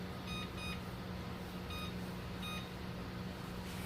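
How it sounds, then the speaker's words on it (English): Kitchen oven timer being set while cooking wild hog ribs, giving a few short, faint electronic beeps spaced irregularly over steady room hum, with no talking. "I'm gonna set the timer on the oven for"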